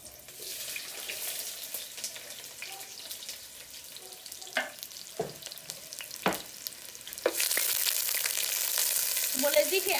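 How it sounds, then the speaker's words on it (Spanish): Finely chopped onion sizzles as it is tipped into hot oil in a clay pot, a steady frying hiss with a few clunks, swelling louder and brighter toward the end. "Ya que está caliente el aceite, vamos a echarle la cebolla. Bien picadita."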